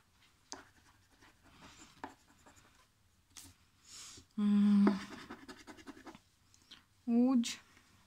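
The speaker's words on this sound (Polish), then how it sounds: "Kończymy sobie tą zdrapeczkę." A lottery scratch card is scratched at close range in short, gritty bursts between pauses, with a couple of louder, longer rasping strokes partway through and near the end.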